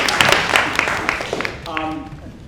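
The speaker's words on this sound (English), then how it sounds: "And yes, you may all clap for yourselves." A theatre audience of students applauding before a school stage production, dense clapping close by that fades out midway while a voice begins speaking over the tail.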